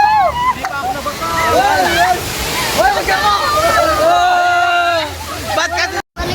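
Water splashes and sloshes around a rafting boat on the Rio Grande Rapids ride at Enchanted Kingdom, loud and close, with excited voices shouting and chattering over the rushing water.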